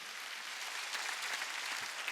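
A church congregation at a Sunday worship service applauds, a faint and distant patter of many hands clapping that holds steady without rising or fading.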